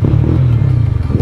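A motorcycle engine with stock exhaust idles and revs briefly up close, a loud, throbbing low exhaust burble with a slight clatter.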